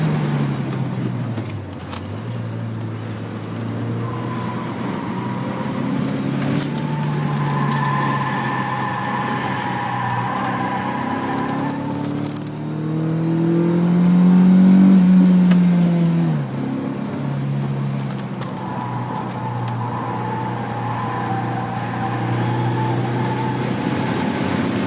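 Steady engine drone and road rumble inside a moving car with its hood up, heard from a phone fixed to a passenger headrest, swelling briefly as the engine pulls harder midway, with no talking.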